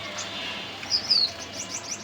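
Small pet birds bathing at a water bowl give a couple of brief high chirps and tweets against a soft, steady background hiss.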